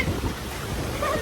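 Ocean surf on a Boracay beach, a dense continuous wash of breaking water and wind rumble, close and fairly loud, with no clear voices above it.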